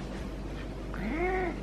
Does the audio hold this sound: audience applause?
no